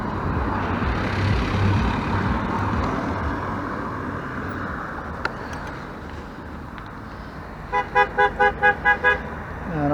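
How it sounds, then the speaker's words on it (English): A car horn toots in a quick series of about six short, evenly spaced beeps near the end, rising over the steady rumble of road traffic heard from inside a moving car. "I don't know why that guy is hooting"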